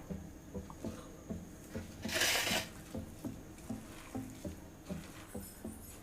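Hands working spinach vada batter of ground urad dal in a bowl, giving a steady run of soft, wet squelches with one brief louder rustling burst midway, close up and with no talking.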